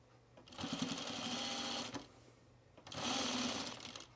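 Trim is tacked onto Carolyn pajama bottoms with a sewing machine in two close, steady bursts of stitching separated by a short pause.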